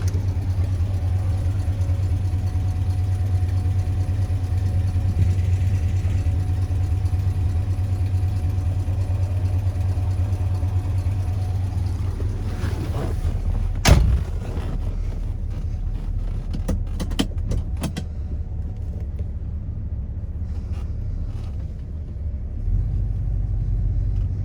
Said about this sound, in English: we're gonna hop in and go for a quick test drive.